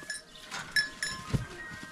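Goats bleat at feeding time, a mother goat among them, with short bleats rising over a busy farmyard background and a faint clink of metal, fairly close.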